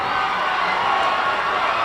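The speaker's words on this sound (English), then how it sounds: "Listen to the UNA crowd." A UNA basketball home crowd roars after a win at Spraggins, a dense, sustained wash of cheering and shouting that holds steady and fairly loud for the whole short stretch.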